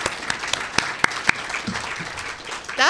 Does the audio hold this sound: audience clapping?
yes